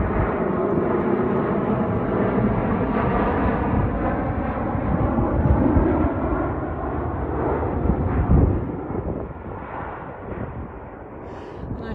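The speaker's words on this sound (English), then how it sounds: "Here comes another plane, guys." A plane passes over Whitney Mesa in Nevada, its broad rumbling roar filling the air steadily, swelling briefly near the end before easing off, with wind buffeting the microphone outdoors.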